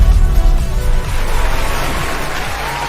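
Crowd at a live marketing event applauding and cheering, a loud dense wash of clapping and voices that holds steady and slowly fades over a few seconds.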